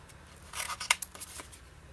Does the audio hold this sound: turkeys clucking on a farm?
no